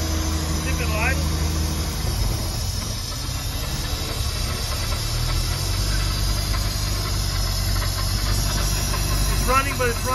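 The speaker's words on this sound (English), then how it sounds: "I've now got the boat running with the spark tester in place, and it was hard to start" Mercruiser boat engine with a spark tester fitted, running rough at idle, a loud close uneven rumble with hiss, steady throughout with brief voices over it.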